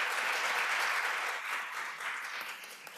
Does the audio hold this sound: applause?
yes